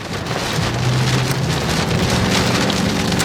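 Hail and rain pelt a car windshield during a spring storm chase in the Kansas City metro, Missouri: a loud, dense, steady patter with a low hum beneath and no voices.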